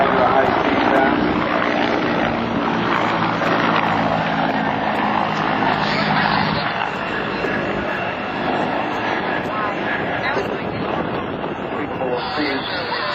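A CH-146 Griffon helicopter accelerates into a high-speed pass at an air national guard open house air show, its steady, loud rotor and engine roar filling the air beneath a public-address announcer's voice.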